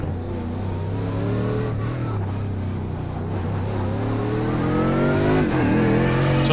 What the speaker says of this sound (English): So I apologize if the engine noise is a little loud over my voice.